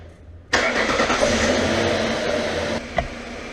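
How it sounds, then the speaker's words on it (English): A car engine cranks and fires up abruptly, then settles into a loud, steady idle for the vehicle whose A/C system is being vacuumed and charged, with a brief click or bump near the end. "I'm going to go ahead and start the car up now and get this stuff running"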